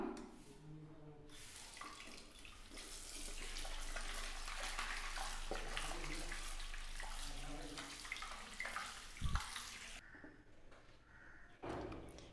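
Aloe vera leaves are washed under a running tap, the water splashing steadily for several seconds before the flow stops, followed by a couple of soft clunks and handling sounds nearby.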